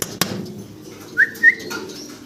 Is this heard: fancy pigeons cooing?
yes